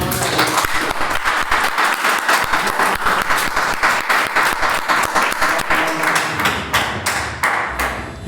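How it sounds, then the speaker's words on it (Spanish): A church congregation claps in a steady, rhythmic beat, a loud, close, sustained round of applause that carries on for several seconds. "Eso se merece un aplauso para el Maestro."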